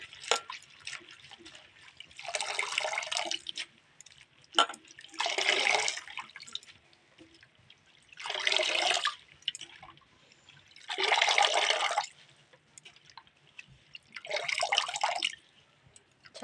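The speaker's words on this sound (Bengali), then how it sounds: "শাক জিনিস ভালো করে জলে ধুয়ে নিতে হয় শাকটা টাইম লাগে ধুতে একটু" Leafy greens being washed by hand in water, with several separate bursts of splashing and sloshing separated by quieter pauses of dripping.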